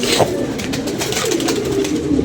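Pigeons kept by a fancier coo softly and steadily alongside a constant background hum, with no one speaking.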